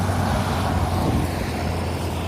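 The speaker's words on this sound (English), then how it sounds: "A truck." A truck passes on a road beside a trail near a tunnel, a dense continuous roar of traffic noise with a steady low rumble, loud and close throughout.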